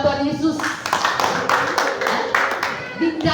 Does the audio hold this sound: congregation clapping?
yes